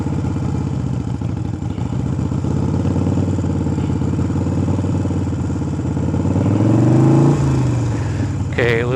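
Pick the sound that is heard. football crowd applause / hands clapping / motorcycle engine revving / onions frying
motorcycle engine revving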